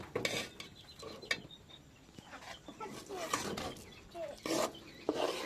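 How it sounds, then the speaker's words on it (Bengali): A spoon scrapes and clinks against a cooking pot while mashing boiled rice for Bengali payesh, a series of irregular metallic taps and rubbing strokes, quiet and close with no talking. "এখন এটাকে একটু চামচ দিয়ে পাতিলের সঙ্গে নেড়ে নেব"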